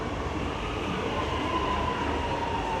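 A suburban train rumbles steadily through Richmond station at close range, with a continuous low roar and a faint high wheel squeal running through the passage.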